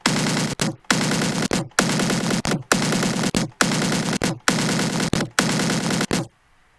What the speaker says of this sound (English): Just the attack of the kick.